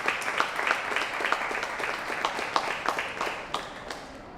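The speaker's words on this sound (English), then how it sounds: "a round of applause for our studio audience" Studio audience applauds at the close of a kids' health panel discussion show, a steady burst of clapping with a few sharper individual claps, tapering near the end.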